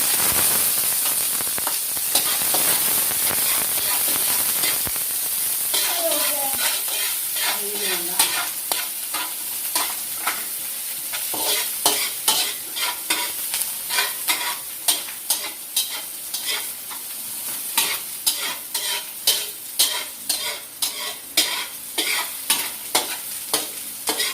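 Onions sauté toward golden brown in a pan for Filipino-style paella valenciana: a continuous sizzle that gives way to a brisk, rhythmic run of spatula scrapes and stirs, close and fairly loud.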